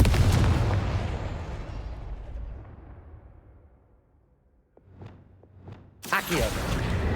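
A Confringo blasting spell fired in Hogwarts Legacy gives a loud booming blast that fades slowly into a long rumbling tail, followed by a few short whooshing bursts and then a sudden loud crash.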